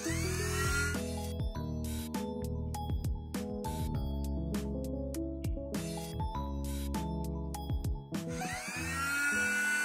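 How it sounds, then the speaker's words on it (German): A small rotary tool polishes a dug-up metal button after cleaning and wax conservation, a loud high whine with shifting pitch, repeatedly cutting in and out as the bit meets the surface, no speech. "Der Knopf ist auch trocken, jetzt wird er poliert."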